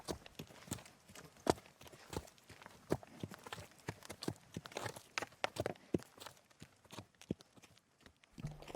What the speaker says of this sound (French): Le cheval blanc apparaît tranquillement.